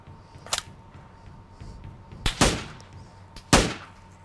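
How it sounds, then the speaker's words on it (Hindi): Three sharp, loud M24 sniper rifle shots ring out in PUBG Mobile, spaced about a second apart, each a sudden broadband crack with a short decaying tail over quiet game ambience. "मतलब अभी यहाँ पे आपको 2 M24 के शॉट देखने को मिलेंगे।"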